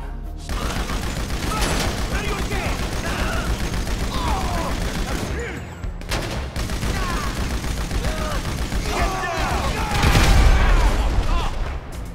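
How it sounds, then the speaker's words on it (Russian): Sustained machine-gun bursts from GTA 5 Online gameplay rattle continuously, loud and dense, with a heavier explosion-like surge near the end. "Пулемет, царь войны."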